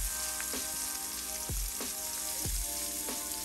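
Thick onion slices, cooked as rings to stand in for a burger bun, fry in a pan with a steady, close sizzle and a few soft pops and taps throughout.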